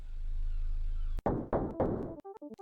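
A door closing in Rental, an Animal Crossing-style horror game: a sharp thud cuts off a steady low hum, followed by a few scraping knocks and short tonal game blips.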